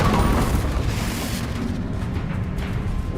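A Confringo fire spell blasts in Hogwarts Legacy, a loud, dense rumbling boom that sustains across the whole stretch with crackling broadband energy, no voices over it.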